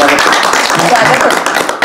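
An audience claps and applauds at a Holi poetry gathering to welcome a poet, a dense, steady patter of many hands that fills the short moment without a break.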